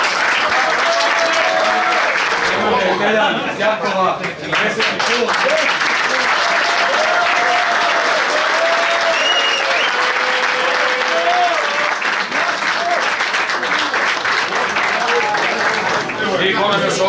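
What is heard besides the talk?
applause for the swimmers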